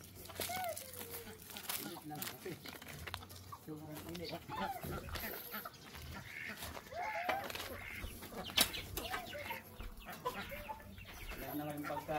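Several chickens cluck and squawk nearby in an irregular, busy chorus, while people talk quietly in the background.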